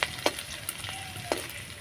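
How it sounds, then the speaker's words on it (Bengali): Chopped ginger and green chilli fry in cucumber oil in a pan, giving a steady sizzle punctuated by a few sharp clinks and scrapes of a stirring utensil. "আদা লঙ্কা কুচিটা আমি ভেজে নেবো"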